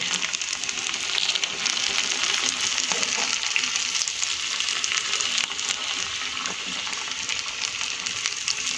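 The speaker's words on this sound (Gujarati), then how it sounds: "આપણે મીડિયમ ગેસ ઉપર જ આને ફ્રાય કરીશું" Dough snacks such as samosas, made from leftover flour, frying in a pan of oil over medium heat after being flipped, giving a steady, close sizzle and bubbling crackle throughout without a break.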